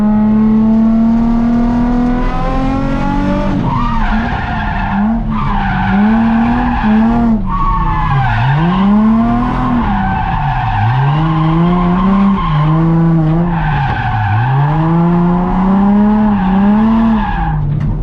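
A car drifts around Ebisu Circuit with loud, sustained tire squeal and skidding, the engine revving up and down in repeated swells as it slides through corners, close and continuous throughout.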